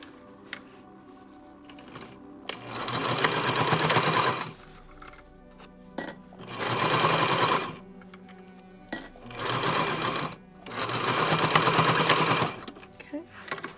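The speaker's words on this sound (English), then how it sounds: "Back stitch and just sew straight down." A sewing machine stitches a fabric face mask in four loud, close bursts of rapid whirring, separated by short pauses.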